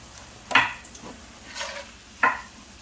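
Seasoned salt being worked into ground bison filling for jalapeño poppers: three soft, wet squishing bursts of mixing, spaced a second or so apart, with quiet pauses between.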